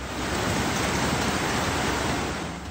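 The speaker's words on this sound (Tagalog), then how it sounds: "Sa gitna na walang humpay na pag-ulan at malakas na ragasan ng tubig" Floodwater surges in a steady, loud, unbroken roar during relentless heavy rain in Antique, with no voices or other breaks.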